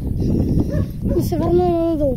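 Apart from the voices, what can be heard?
dog barking and whimpering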